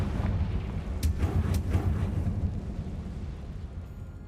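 A Confringo fire spell explodes in the Hogwarts Legacy game, a deep rumbling blast with a few sharp crackling bursts that rolls on and slowly fades out.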